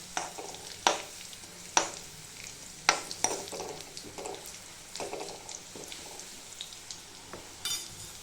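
Garlic frying in hot oil in a home kitchen pan, a soft steady sizzle broken by several sharp stirring scrapes and clinks of a spoon against the pan.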